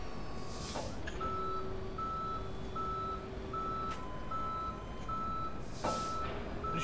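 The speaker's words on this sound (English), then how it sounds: "Tow truck will arrive at your location shortly, officer." Tow truck reversal alarm in the Police Simulator: Patrol Officers game, a steady series of evenly spaced electronic beeps over a low engine rumble, with a couple of louder hissing bursts between them.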